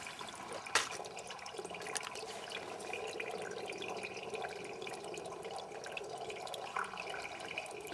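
Spring water seeping out of the ground drips and trickles steadily into a small pool beside a collection pipe, a faint continuous wash of running water with an occasional sharper drip.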